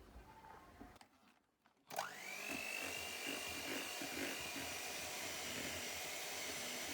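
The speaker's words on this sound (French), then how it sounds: "je mets tout dans la crème et je mélange 1 minute" An electric mixer whirs on, rising sharply to a steady high whine as gelatin is blended into cream, running continuously and close after a brief quiet moment.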